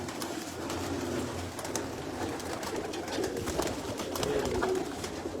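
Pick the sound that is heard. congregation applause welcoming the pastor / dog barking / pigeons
pigeons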